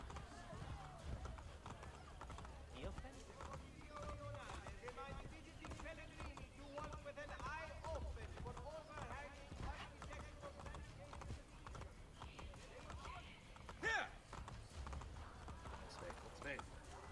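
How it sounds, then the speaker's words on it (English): Horse hooves clip-clop steadily in Assassin's Creed: Brotherhood as a horse is ridden off, with spoken game dialogue and music layered over the hoofbeats throughout. "Get on the horse, Ezio."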